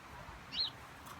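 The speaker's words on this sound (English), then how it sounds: "Just sound like it's birds everywhere." Birds chirp outdoors in the trees: one faint, high, brief call sounds at a distance over a steady low background rumble, with no one talking.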